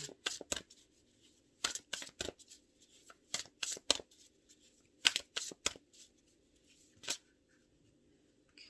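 A deck of tarot cards is shuffled in quick riffling bursts, separated by short pauses, close and crisp against near silence.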